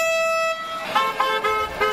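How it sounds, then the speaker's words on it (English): Car horns honk in a roadside tribute for a 13-year-old girl killed in West Virginia, one long sustained blast followed by several short repeated toots, loud and fairly near, with no talk. "A honk for Lainey Hudson."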